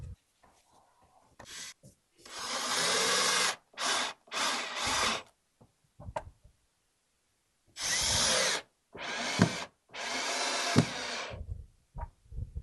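A power drill drives screws into the underside of a wooden seat on a tall deck chair, sounding as several loud, close bursts of whirring separated by short pauses, with no talking.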